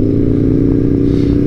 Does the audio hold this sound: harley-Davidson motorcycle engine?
yes